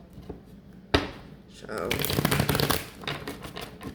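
Playing cards being shuffled, a sharp riffle burst followed by a longer fluttering cascade of card flicks, with a voice talking over it.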